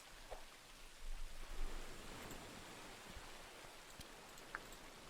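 Steady rain falls in a flood-survival video game, a soft continuous hiss with occasional faint drop ticks, fairly quiet and without speech.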